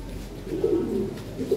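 Fancy pigeons cooing softly, a couple of low throaty coos close by in a short stretch with no talking.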